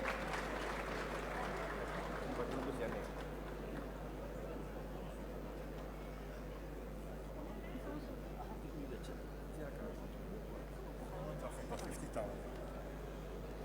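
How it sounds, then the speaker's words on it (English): Applause at a Ghanaian anniversary commemoration of the Sagrenti War, a distant, faint crowd clapping that fades over a steady low hum, with voices talking through it. "A round of applause for them."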